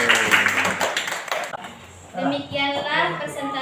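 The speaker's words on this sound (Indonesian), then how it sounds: "Tepuk tangan dong untuk pertanyaan dan jawabannya" Classroom applause for a question and its answer, a short burst of hand claps at the start that quickly gives way to children's voices talking nearby.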